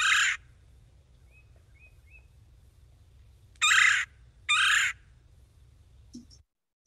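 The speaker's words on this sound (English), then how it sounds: "I'm just gonna play one of the sounds of the red-bellied woodpecker that you might be hearing these days of late winter." Recorded calls of a red-bellied woodpecker in late winter: three short rolling churring calls, one early and two close together later, over a low steady hum.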